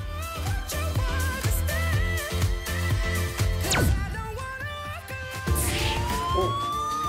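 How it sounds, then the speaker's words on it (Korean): A wailing siren rises and falls over layered music, its pitch sweeping up and down repeatedly, loud and close, signalling an emergency at a military unit. "사이렌 소리?"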